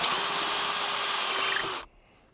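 A power drill drives screws into a wooden duck-pen gate, a steady, loud whine running continuously for almost two seconds before cutting off abruptly into quiet.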